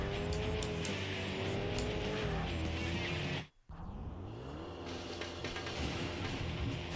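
A fancy car in the Tokyo Xtreme Racer game roars past on the highway, a loud, close, rising then falling engine whine that drops out for a moment before steady engine drone resumes.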